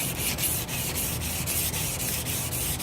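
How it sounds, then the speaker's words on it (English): A chef knife blade being hand sanded with 60 grit abrasive makes a close, continuous raspy scrubbing sound. Quick back-and-forth strokes repeat in an even rhythm, with no talking. "I'm just going through here with the 60 grit just to remove any of those deeper scratches"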